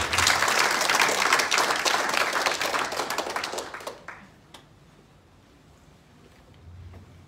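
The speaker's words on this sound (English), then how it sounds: "Can you clap our hands unto the Lord?" Church congregation clapping hands during a worship service, a loud dense burst of applause that fades out after about four seconds into near quiet.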